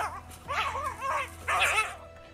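A coyote fights off a lynx that tackled it: a close, agitated run of yelps, whines and sharp barking cries, loud and uneven, that ends abruptly.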